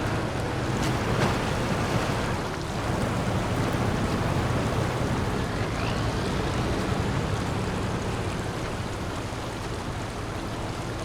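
The Tuz truck wades through deep water in SnowRunner, giving a steady, loud rush of sloshing water and engine noise that carries on without a break and with no talk over it.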